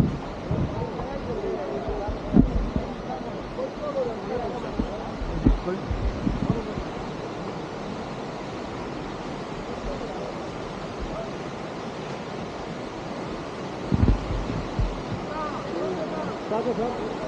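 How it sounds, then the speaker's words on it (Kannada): Jog Falls waterfall roaring from its top point, a steady broadband rush of falling water with wind buffeting, continuous and loud with a few louder gusts throughout. "ಈಗ ಜೋಗ ಜಲಪಾತನ ಟಾಪ್ ಪಾಯಿಂಟಿಂದ ನಮ್ಮ ಪಕ್ಕದಲ್ಲೇ ಹತ್ತಿರದಿಂದ ನೋಡಿ ಕಣ್ತುಂಬಿಕೊಳ್ಳೋಣ"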